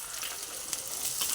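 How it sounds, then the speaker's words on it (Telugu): Ivy gourd pieces fry in plenty of hot oil over tempered onions for a curry, a continuous close crackling sizzle with occasional sharper pops and no voices. "దొండకాయ కర్రీకి కొంచెం నూనె ఎక్కువే పట్టిద్దండి, ఎందుకంటే కొంచెం బాగా వేగాలి కదా"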